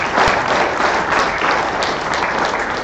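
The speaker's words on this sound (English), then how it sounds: "can we give a special round of applause for the citizens?" A room full of conference attendees gives a sustained round of applause, loud and even throughout with no voices over it.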